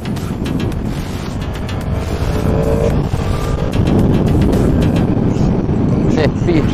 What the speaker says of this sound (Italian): Hai visto come arrivano le moto